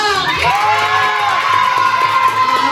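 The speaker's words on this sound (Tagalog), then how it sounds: "So Group A, bigyan na natin ang pinakatoto natin palakpak." A birthday party crowd of children and adults cheers and whoops loudly and steadily, a dense mix of shouting voices at close range.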